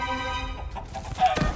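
A giant king chicken in Minecraft: Story Mode gives a short clucking call, near and moderately loud, with a brief bird-like cluck sounding over a faint background.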